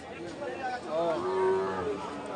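A cow lows once, a rising then drawn-out moo, at a cattle market among local breed livestock, with people chatting nearby.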